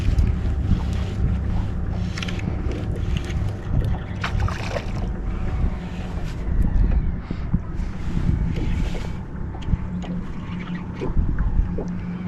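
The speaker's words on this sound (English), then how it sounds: "There we go, right, the boat." Boat out on a trout fly-fishing reservoir, a steady low rumble of motor and water with heavy wind buffeting the microphone throughout, no voices.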